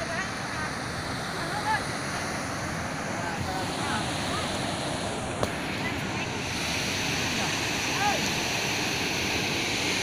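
Lenin stream, a mountain stream, flows with a steady rushing, splashing wash that fills the whole scene evenly, close and constant, with no clear talk over it.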